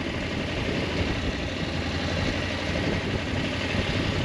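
Husqvarna Norden 901 motorcycle engine running steadily on a narrow off-road track, a continuous dense mid-to-low drone with wind rush, loud and close throughout with no talking.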